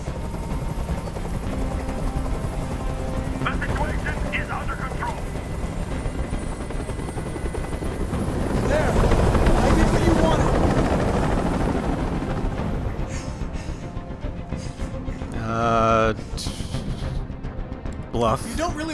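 A helicopter hovers nearby in the hostage scene of the video game Detroit: Become Human, a steady, loud rotor thrum under dialogue that swells midway, with short bursts of gunfire near the end.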